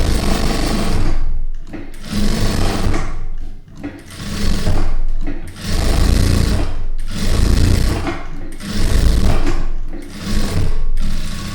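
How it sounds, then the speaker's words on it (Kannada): A sewing machine stitches close to the edge of fabric in a tailoring lesson, loud rapid mechanical whirring in repeated runs of one to two seconds separated by brief pauses. "ಹೊಲಿಗೆ ಸ್ವಲ್ಪ ತುದಿಗೆ ಹಾಕ್ಕೊಳ್ಬೇಕು."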